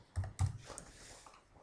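A few quick keystrokes tap on a computer keyboard while a word is typed, soft and close in an otherwise quiet room.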